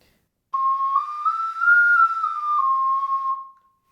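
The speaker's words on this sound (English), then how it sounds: "Be sure to use plenty of breath on the highest notes. This is especially true for this ocarina." Ocarina played high with plenty of breath: one clear, sustained note about three seconds long that slides up through a few pitches and back down before stopping, heard alone and close.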